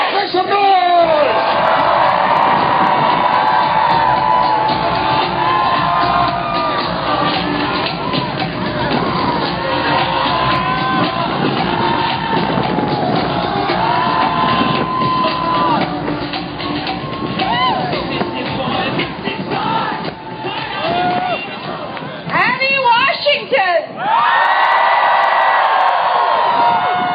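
A big crowd at a climate protest rally cheers, whoops and yells continuously at high volume, with shouting voices rising above the roar throughout.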